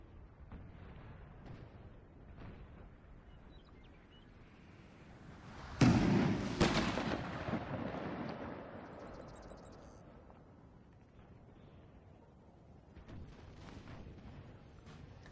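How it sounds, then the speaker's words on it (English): Cannon barrages in a Napoleon Total War Battle of Waterloo, with one big booming blast and a long rumbling roll beneath a faint din of distant firing, while a voice narrates. "All along the front, the artillery continues to pound away."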